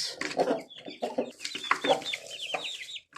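A large rooster of about five kilograms clucks close by in a quick series of loud, choppy calls, with brief pauses between them and a drawn-out call near the end.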